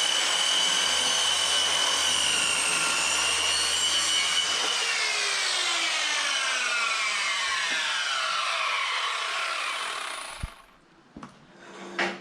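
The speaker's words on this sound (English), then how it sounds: "So now after I've cut the lines in the timber for the roof" A power saw cuts lines into roof timber for a shipping container home frame, a steady loud whine with shifting pitch running about ten seconds before winding down and stopping, followed by a few faint knocks.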